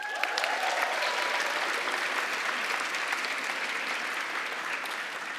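Sustained applause from graduates at a kinesiology commencement ceremony, a dense steady wash of many hands clapping that holds loud throughout without voices.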